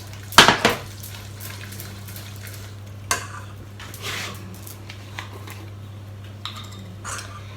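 A paste stirred in a pan for parsley sauce, with a sharp clatter of utensil on metal at the start, then scattered scraping strokes and soft taps.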